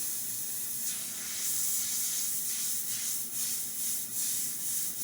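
A Badger Anthem airbrush sprays paint in a constant soft hiss close by, with a few faint pulsing swells as strokes are made.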